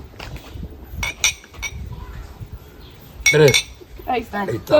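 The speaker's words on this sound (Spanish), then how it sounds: "Brindemos." Glasses clink together in a toast, several sharp bright chinks in quick bursts close by, interleaved with people talking.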